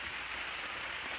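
Rain falls steadily on a small hut, a dense, even hiss of drops on the roof filling the short stretch, with no voices.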